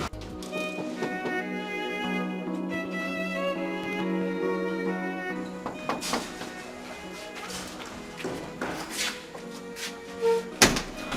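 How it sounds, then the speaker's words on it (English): A car door is opened and shut, heard as a few soft clunks and thuds over steady background music in a film scene. "Open the door."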